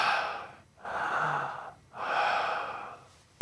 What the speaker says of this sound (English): we hear deep breathing